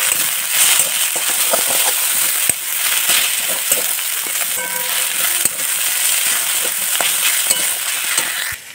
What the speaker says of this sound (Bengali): তো সেটা আলু দিয়ে ভাজছে